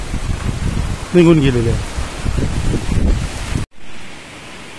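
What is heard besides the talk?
rain falling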